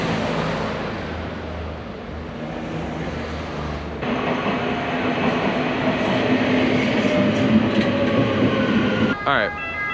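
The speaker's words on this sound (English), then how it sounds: "5 minute max metro ride over to" Interior rumble of a metro train riding through Italy, a continuous low roar and rattle that grows louder and brighter midway, with faint squeals and a sharp clatter near the end.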